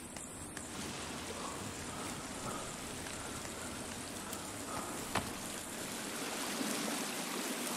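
Steady rushing water of a cave waterfall in the survival video game The Forest, a dense continuous splashing roar with a few faint clicks and no talking.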